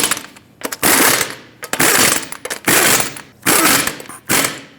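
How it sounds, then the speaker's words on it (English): Wheel lug nuts on a 2019-2024 Subaru Forester are tightened during a rear brake job, with four or five loud, close bursts of rapid mechanical rattling, each lasting under a second, separated by brief quieter gaps. "we're going to torque them to 89 foot-pounds"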